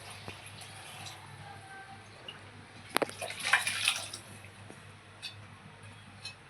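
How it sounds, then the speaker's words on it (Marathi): Water is poured into a pan of pulav cooking on a gas stove: a short, soft splashing pour partway through, otherwise fairly quiet kitchen background. "आता याच्यात आपण पाणी घालूया शिजवायला."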